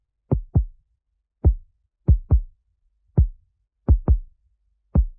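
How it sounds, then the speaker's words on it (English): A Moog synthesizer bass drum tone, soft and heartbeat-like, beats alone in pairs and single hits, nine thuds spread irregularly over a few seconds. "they did use a Moog synthesizer to create what sounds like a bass drum"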